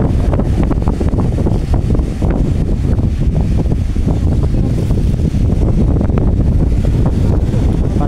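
Strong wind at the sea buffets the microphone in a loud, continuous roar with gusty rumbling throughout, at high tide.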